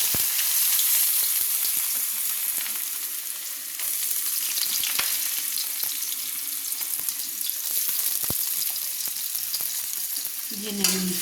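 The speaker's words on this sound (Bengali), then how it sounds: "তেলটা গরম হয়ে গেছে, তো আমি তুলে দিলাম গাজর," Chopped carrots sizzle in hot oil in a wok, a loud, continuous close-up frying hiss with scattered crackles and a few clinks, no voices.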